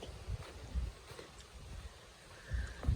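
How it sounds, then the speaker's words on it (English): Wind off a lake buffets the microphone in low rumbling gusts along a hiking trail near a road crossing, rising and falling over a soft outdoor hiss. "It's kind of windy here off the lake."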